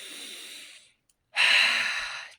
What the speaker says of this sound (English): even if you're only able to do some deep breathing